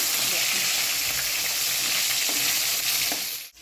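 Katla fish pieces fry in hot oil after being turned over, giving a close, continuous sizzle with light scraping and stirring clatter before the sound cuts off at the end.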